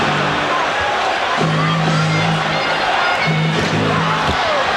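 Basketball arena crowd at the 1991 NBA Finals, Bulls versus Lakers, a steady loud roar of voices and babble swelling as fans call for a travel, with a commentator talking over it.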